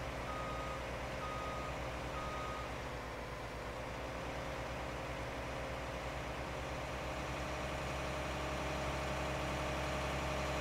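Tractor engine pulling a seeder in the Farming Simulator video game, a steady loud drone throughout with a few short repeated beeps early on and no speech.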